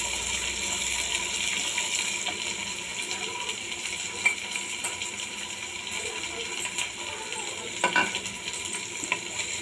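Onions frying in a pan after garlic, a steady broad sizzle with occasional scraping stirs and small clinks, close and fairly quiet, no voices.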